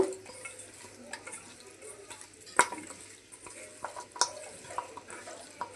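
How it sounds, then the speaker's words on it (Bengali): Chicken being mixed by hand with salt, turmeric and chili powder, a close, squelchy rubbing and stirring with scattered sharp clicks against the bowl, irregular and moderately quiet, with no voices. "এখন মাংসের সাথে মশলাগুলো ভালোভাবে মেখে নেব।"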